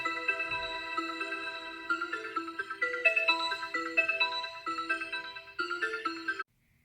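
A bright, bell-like synth melody steps through a short tune, each note ringing with a soft echo before stopping abruptly.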